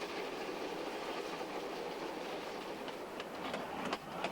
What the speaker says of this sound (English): you'll travel behind a laboring steam locomotive